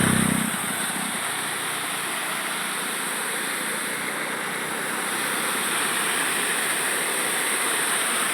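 The Aghanashini river roars in a loud, steady, unbroken rush of flowing water with no voices over it.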